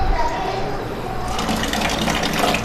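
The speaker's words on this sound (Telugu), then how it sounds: "అది వాటర్ ప్లాంటో ఆర్ఓ ప్లాంటో ఆల్రెడీ ఇది వర్కింగ్లో ఉంది." Water runs steadily from the tap of a working RO drinking-water plant at a government school, a continuous close hiss and splash with no speech over it.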